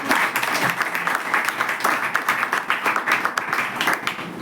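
Loud, steady applause from an audience at a company presentation, dense clapping sustained throughout with a few faint voices mixed in.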